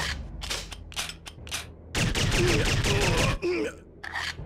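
Repeated bursts of gunfire from a gun in the video game TimeSplitters, several sharp shots in quick succession followed by a longer sustained volley, with in-game groans and a player talking over it.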